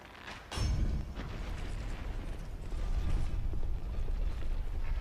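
A rotating crushing mechanism in Dark Souls II, a heavy grinding, creaking rumble that kicks in with a thud and keeps churning loud and continuous, with no one talking.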